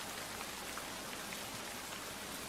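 Steady, dense rain falls in a jungle area at night as a story sound effect, an even hiss throughout with no voices.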